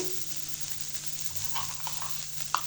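Onion and green chili fry in hot oil, giving a steady, soft sizzle with faint crackles and an occasional light stir, with no talk.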